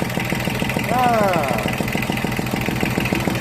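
A used Yanmar 3TN72 three-cylinder diesel of about 20 horsepower idles close by with a steady, rapid knocking pulse, while someone talks briefly over it.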